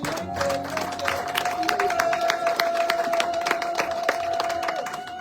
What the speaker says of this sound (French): Nous acclamons pour le Seigneur.